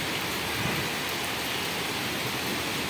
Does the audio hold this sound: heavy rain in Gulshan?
yes